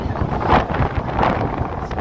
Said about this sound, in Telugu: ఇక్కడ మనం మాట్లాడుకోవడానికి మనుషులు కూడా గాలికి కొట్టుకుపోయేలా ఉంది. ఇక్కడ అంత గాలి వస్తుంది.